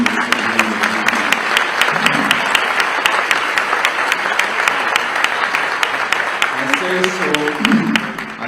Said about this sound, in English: Yes, let's applaud Hendrik.